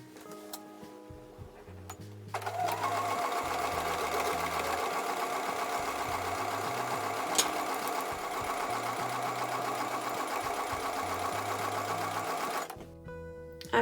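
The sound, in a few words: sewing machine sewing seams of a quilt block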